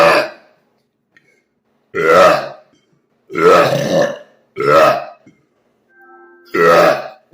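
Five loud, deep, drawn-out burps come one after another in a slow, irregular rhythm, each separated by a short stretch of near silence, captured up close.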